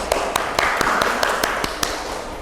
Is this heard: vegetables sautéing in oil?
no